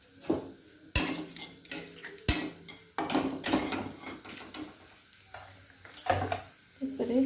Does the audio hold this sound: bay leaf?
yes